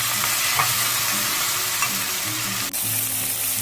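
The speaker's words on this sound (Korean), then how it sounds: "볶다가 우삼겹도 넣고 볶아주세요" Onion, potato and thin-sliced beef brisket stir-frying in an oiled pan for spicy curry udon, a steady loud sizzle with light scraping and stirring throughout.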